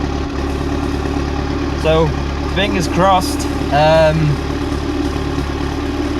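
A 1985 Ford Capri engine fitted with motorbike carburettors idles steadily and close by, a continuous low drone running the whole time while someone speaks briefly over it.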